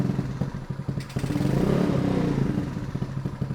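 A Honda Spree scooter with a GY6 engine, its carburetor jets apparently clogged and running lean, revs under throttle, a close, continuous mid-pitched engine drone that rises and swells with the gas and carries some rattling clatter.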